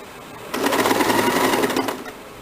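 A sewing machine runs in one steady burst of about a second and a half, stitching a blouse sleeve into the armhole of a princess-cut blouse. The whirring is close and clear, with soft handling sounds before and after and no talking.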